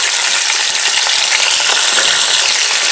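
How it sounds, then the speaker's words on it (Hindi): One kilo of chicken sizzling loudly in a pan with onions for Sindhi biryani, a steady hissing fry close up with faint scraping of stirring underneath, no voices. "अब मैं इसके अंदर चिकन डाल दूंगी।"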